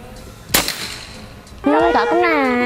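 One sharp, loud crack from a semi-automatic PCP air rifle fired at a target, followed a moment later by a person speaking.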